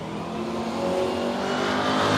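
Drag car at Willowbank Raceway, Australia, launching hard off the line with a loud, steady engine roar and rising revs that stay close and dominant throughout.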